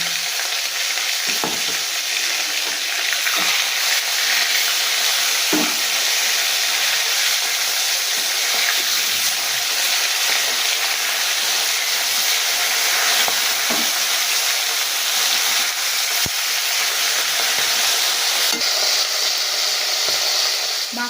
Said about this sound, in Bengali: এবার আমি মাছটা উল্টে অন্য পিঠ ভালো করে ভেজে নেবো